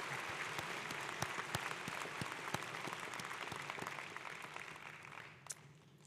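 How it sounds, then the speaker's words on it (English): Audience applause for student marshals at a university commencement ceremony: a dense, steady round of clapping that holds for several seconds, then thins and fades toward the end. "Let's give all of our marshals a great round of applause for their help and participation."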